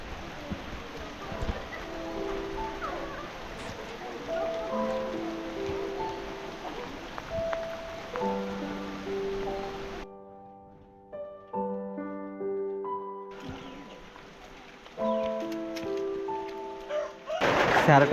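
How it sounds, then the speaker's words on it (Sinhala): Heavy rain pours steadily in the hills around Mandaramnuwara, a continuous broad hiss. Melodic music plays over it, and the rain eases briefly in the middle before returning. "සැරටම පොඩ්ඩක් වහිනවා"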